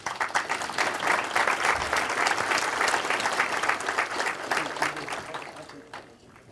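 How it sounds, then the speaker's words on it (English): An audience at an annual lake association meeting gives a round of applause. The clapping swells quickly, holds steady for several seconds, then fades out near the end. "So I'd just like to, if you'd all give TJ a great round of applause."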